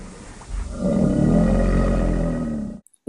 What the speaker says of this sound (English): What sound does the crocodile make?